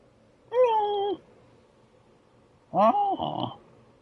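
Two meows from a cat character in the video game Stray on PS5, each about half a second to a second long with a pause between, clear and close over a faint background hum.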